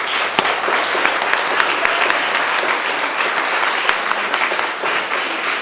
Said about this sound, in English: give a warm applause to Jennifer for her